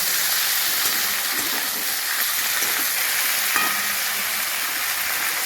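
Vegetables and tomato fry in a pan for a Bengali tangra fish curry, giving a steady, even sizzle with faint stirring, close up and with no talking.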